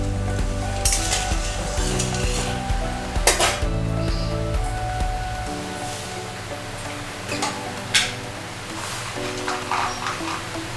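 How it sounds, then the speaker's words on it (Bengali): Sugar and water cook into syrup in a pan, giving a steady sizzle and bubble. Occasional metallic clinks and stirring scrapes ring out near and fairly loud, and no voice is heard. "এর মধ্যে আমি জল দিয়ে চিনির শিরাটা করে নেব"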